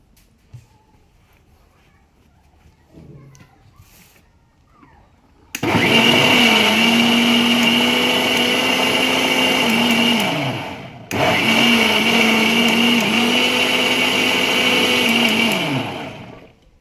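An electric blender whips a cream mixture for bighead fish bait, roaring loudly at a steady pitch in two long runs split by a brief stop, after a few seconds of near silence.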